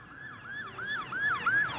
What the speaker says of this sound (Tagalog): Walang tigil ang daan ng mga ambulansya.